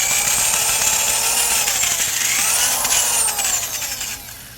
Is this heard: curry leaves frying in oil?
no